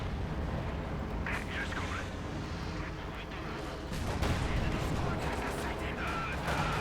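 Field guns and tanks fire in a Company of Heroes 2 battle, with a Soviet IS-2 and a German Panzer IV trading shots, giving repeated booming blasts and rumbling impacts under steady commentary.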